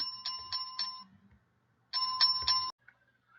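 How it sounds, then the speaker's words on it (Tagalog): Two short bursts of a bright electronic bell chime, each a quick ringing pulse, separated by a brief silence. "push the bell button for notification"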